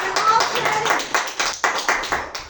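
Children clapping together in a classroom, a burst of brisk, fairly close handclaps that comes in uneven pulses, with some speech or voices mixed in.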